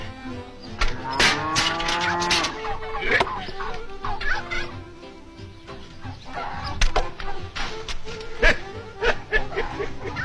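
Farm cow lowing in a rural setting, with a few close moos in the first seconds and fainter calls later, amid light background noise and occasional voices.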